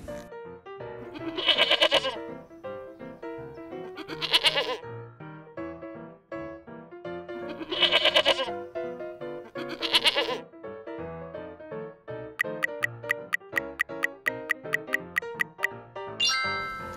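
Several goat bleats ring out in bursts over a cheerful musical backing with chimes, the animal calls loud and close between melody phrases.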